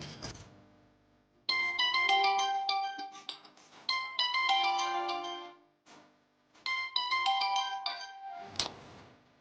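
A melodic phone ringtone plays in repeated bursts separated by short pauses, clear and fairly close, with no talking.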